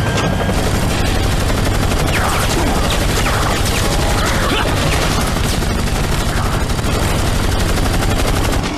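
Dense, continuous gunfire in Resident Evil 4 VR during the Krauser battle, loud and sustained without a break, layered with other game effects.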